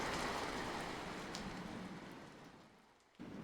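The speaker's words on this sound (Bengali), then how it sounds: "এ বৃষ্টি রাতের পরেও পড়বে।" Rain falls at night in a continuous soft hiss that gradually thins, drops out for a moment, then returns with a few brighter drips near the end.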